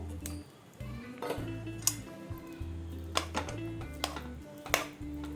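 Diced potatoes tipped into a pan of pea gravy and stirred in, with clinks and scrapes of a spoon against the cookware in an uneven rhythm, close and fairly quiet.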